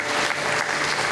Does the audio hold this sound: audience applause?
yes